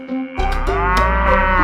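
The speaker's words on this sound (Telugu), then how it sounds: "నువ్వు గేదెవా కోడివా? ఎంత పొద్దున్న అరుస్తావేంటే?" A water buffalo lets out a loud, close, drawn-out moo early in the morning, one continuous call lasting over a second after a short quiet start.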